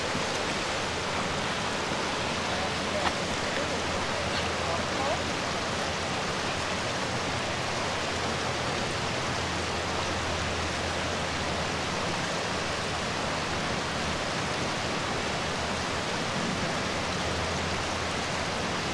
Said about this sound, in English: You can hear the waterfall in the distance now.